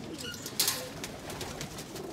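Pigeons coo softly in a breeding loft in Lahore, Pakistan, a faint low murmuring over a hissy background with one brief flutter-like burst.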